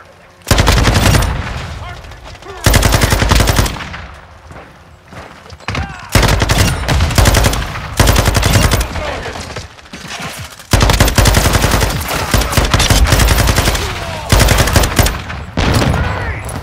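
Dense automatic gunfire and blasts from a Modern Warfare 2 team deathmatch match come in long loud rapid bursts separated by brief lulls, close and dominant, with in-game voices calling out underneath.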